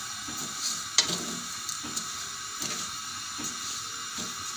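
Sweet corn cob roasting with salt in a small wok while being turned continuously, a steady close sizzle and hiss with scraping stirs every second or so.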